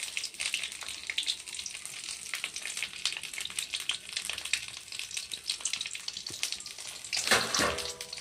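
A pan of cabbage curry and fish curry cooks at close range, giving a continuous crackling sizzle with stirring scrapes and a louder burst of bubbling near the end, and no one speaking.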